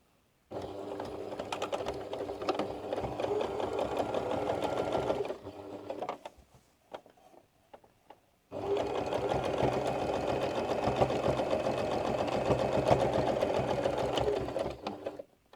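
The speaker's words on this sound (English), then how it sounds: "I'm going to go straight to the machine and sew between here and here, very close to the edge" A sewing machine stitches along the edge of a fabric laundry bag in two steady, fast-running bursts separated by a short pause with small clicks, close and alone.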